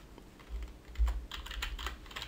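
Keys on a computer keyboard are tapped in a short, quick burst, close and fairly quiet, with a few distinct clicks.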